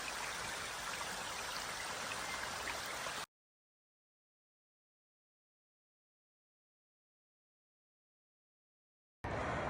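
Water rushes steadily along Eureka Creek on the Appalachian Trail near Delaware Water Gap, a faint broadband wash heard alone for about three seconds before sudden silence, then resuming briefly at the end.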